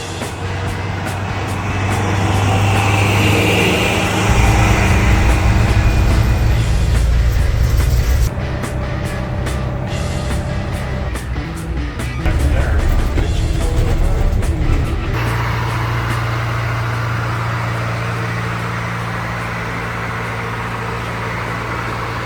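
A GM PD-4501 Scenicruiser Greyhound coach cruises a highway heading north toward Fremont, California, giving a loud, steady road roar that swells and shifts as passing traffic goes by, with no voices.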